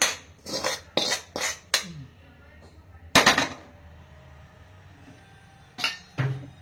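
A spoon clanks and scrapes against a metal basin while hot sorghum dough for jonna rotta is mixed: quick bursts of close, sharp clinks, a pause, one heavy knock, then a few more strikes.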